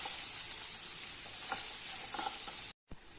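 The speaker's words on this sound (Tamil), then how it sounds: "உப்பு போடலை கொஞ்சம் வதங்கட்டும்" Capsicum sautéing in a pan gives a steady sizzle and hiss with a few soft stirring taps. It cuts out to silence for a moment near the end, then comes back.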